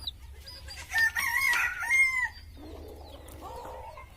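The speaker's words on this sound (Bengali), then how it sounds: "তো এই মোরগটাই ধরবো আজকে" A village rooster lets out one clear crow in the middle, followed by softer clucking from nearby chickens against a quiet outdoor background.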